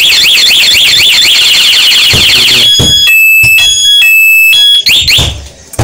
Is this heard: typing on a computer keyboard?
no